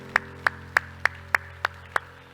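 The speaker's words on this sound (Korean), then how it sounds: "우리 하나님께 영광의 박수" A church congregation claps in unison during a Korean worship service, seven evenly spaced, crisp claps in a steady rhythm over a low, quiet room hum.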